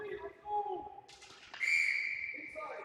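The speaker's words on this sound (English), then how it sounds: "they're going to whistle that one" A referee's whistle blows at a youth ice hockey game between the Jr Coyotes and Dallas Stars, a sharp shrill tone rising out of rink noise while a commentator talks over it.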